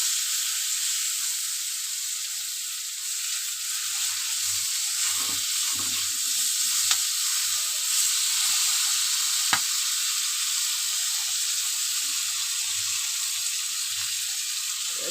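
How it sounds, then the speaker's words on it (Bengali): Continuous sizzling from a pan frying with turmeric for hilsa-eggplant curry, a steady bright hiss with occasional faint stirring knocks, heard close with no talking. "দিয়ে দেবো হাফ চামচ হলুদ গুঁড়ো, আর একটু ভালো করে ভেজে নেব"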